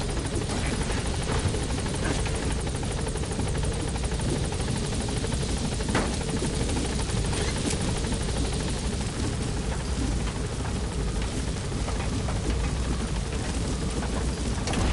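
Inside the Metal Gear video game, a helicopter hovers near a landing zone and gives off a loud, constant rotor roar that fills the whole stretch evenly, with no talking.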